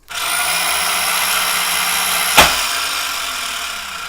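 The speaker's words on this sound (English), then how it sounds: "you heard the motor run, then you heard that distinctive pop at the end" A Square D Masterpact NW circuit breaker's spring charging motor whirs steadily and close for several seconds, broken by a single sharp pop partway through as the spring completes its charge, then the motor hum continues.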